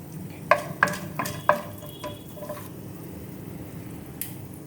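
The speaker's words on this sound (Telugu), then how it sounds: "జీడిపప్పు ఒక 5 పప్పులు వేస్తున్నాను. కొంచెం ఇంగువ వేస్తున్నాను." Cashews and asafoetida drop into hot oil in a pan for atukulu upma, giving three or four crisp sizzling pops in quick succession that settle into a quiet, low frying hiss, close by and without talk.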